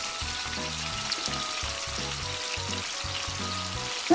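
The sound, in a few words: chicken fillet frying in hot oil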